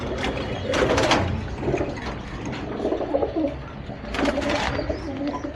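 Lambadi pigeons coo close by in repeated soft, throaty bursts, two prominent rounds near the start and end with quieter burbling between, over a steady background hum.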